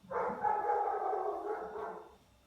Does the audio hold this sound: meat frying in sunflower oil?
no